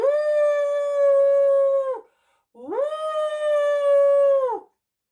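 A voice imitating a wolf howl, with two long, steady, drawn-out "ooo" cries separated by a short pause, loud and close.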